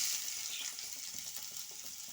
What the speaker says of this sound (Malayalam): എണ്ണ ചൂടായിട്ടുണ്ട് അതിലേക്ക് കാൽ സ്പൂൺ കടുകിട്ട് പൊട്ടിക്കാം ഇനി അതിലേക്ക് നമുക്ക് സവാള ഇടാം